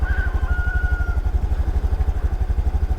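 A tractor engine keeps running on a road after an accident in heavy rain, its steady loud pulsing chug close by with a faint whine above it and no voices.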